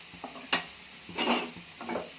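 Bitter gourd curry stirred in a pan with coriander powder: a few soft scraping strokes and a sharp metal tap against the pan, quiet and close, no voices.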